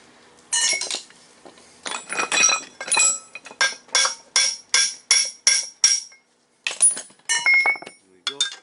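Metal tool tapping out a small keyway from a car engine crankshaft, a rapid series of sharp close metallic clinks in a steady rhythm, about a dozen strikes with brief gaps.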